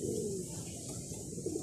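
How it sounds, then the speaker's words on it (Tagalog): Pigeons arriving and cooing nearby, a few soft low coos rising over a steady outdoor hiss, with a brief louder coo near the end and no talk. "So ayan yung ating mga ibon ngayon lang nagdatingin uli."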